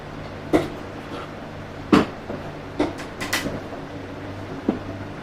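A drawer in a workshop is pulled open and pushed shut several times while spatulas are hunted for, giving a string of sharp wooden knocks and sliding clunks at irregular intervals over a steady low hum.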